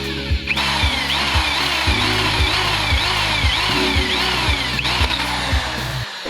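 Drill bit boring through steel while fitting a low-rise handlebar on a Rusi Titan 250 motorcycle: a loud, steady motor whine runs throughout, with a regular pulsing grind as the bit bites into the metal.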